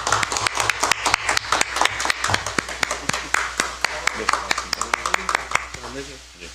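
Scattered, steady hand claps from a modest group at a Democratic Party recruitment ceremony, given as the party leader helps a new recruit into a party coat; a voice talks over the claps near the end.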